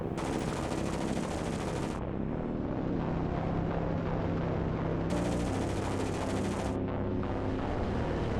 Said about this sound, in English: Good old-fashioned strafing run to start us off.